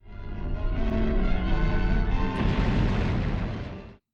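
A building explodes in the Fleischer Superman cartoon The Mad Scientist, heard as a steady roaring rumble of blasts and crumbling debris that runs loud and continuous for about four seconds before cutting off abruptly.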